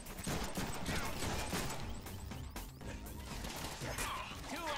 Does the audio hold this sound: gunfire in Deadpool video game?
yes